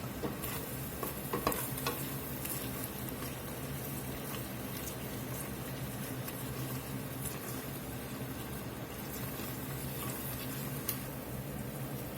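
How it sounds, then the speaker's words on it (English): A pot being deglazed while making French onion soup, with a steady sizzle and simmer and occasional stirring and scraping clicks, continuous and close without talk. "We're going to deglaze this pot real good and let this cook down."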